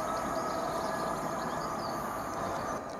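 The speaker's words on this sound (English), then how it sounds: "1329 service to London Liverpool Street, now about to arrive into platform 1" A Class 745 train running into platform 1 at Stowmarket station, a steady, continuous rumble with broadband rail noise held at a constant level throughout, close and fairly loud, with no voices.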